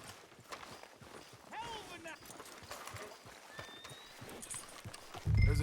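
Horse hooves clip-clopping at a walk in Red Dead Redemption 2, steady and moderately close, with a brief whinny and dialogue running over them.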